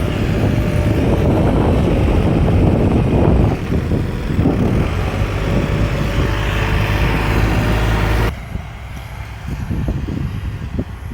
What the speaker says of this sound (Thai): อุ้ยลมมากเลยพี่น้อง